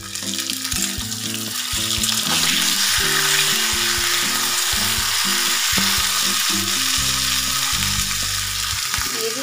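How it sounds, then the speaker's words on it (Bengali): Cumin, chili and ginger paste sizzle and crackle steadily in hot oil in a pan after potatoes were fried, loud and close, with occasional stirring clicks and music playing underneath. "এবার দিয়ে দিচ্ছি জিরে আর লঙ্কা আদা বাটা"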